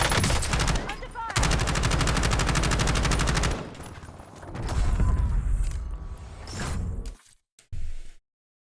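Call of Duty Warzone gunfire on PC: a long, dense burst of rapid automatic fire up close, then scattered shots and impacts that fade into brief silence near the end.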